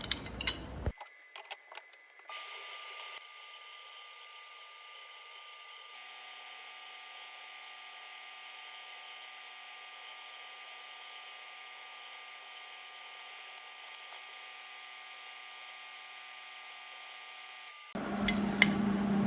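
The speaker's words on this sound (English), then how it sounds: "I'm going to see if I can sandblast off this paint." A sandblaster strips paint from steel welding table legs, giving a steady, even hiss that runs almost unbroken for about fifteen seconds, with clattering handling noise at the start and end.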